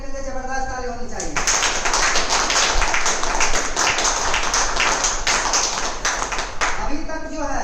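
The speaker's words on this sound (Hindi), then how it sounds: "उनके लिए जबरदस्त ताली होनी चाहिए" At a DXN training session, an audience bursts into a dense, loud round of applause lasting several seconds, with a voice speaking just before and after.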